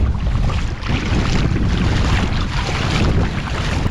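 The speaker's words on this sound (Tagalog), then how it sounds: "Malakas nga lang yung hangin." Strong wind gusts across a white sand beach, a loud, constant roaring buffet on the microphone with a faint wash of water beneath it.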